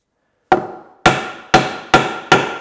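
A hammer drives a wooden drawbore peg into a mortice and tenon joint with five sharp, ringing blows at a steady pace, close and loud, each decaying quickly before the next.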